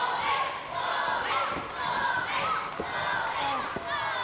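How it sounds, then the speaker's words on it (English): Wrestling event crowd rallying behind a wrestler, a continuous roar of cheering and shouting in a busy indoor venue, with scattered thumps and voices mixed into the noise. "And now you can hear the crowd getting behind Bobby."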